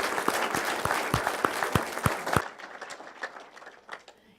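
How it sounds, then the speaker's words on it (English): Audience in a room applauding honored alumni at a university Founder's Day recognition ceremony, close sharp claps that are loud at first, then cut down to softer scattered clapping that fades out. "a big round of applause for all of our honored alumni."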